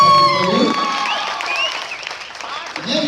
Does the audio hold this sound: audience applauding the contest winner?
yes